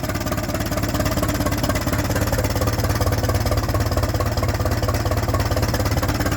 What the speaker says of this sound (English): Now listen to that engine.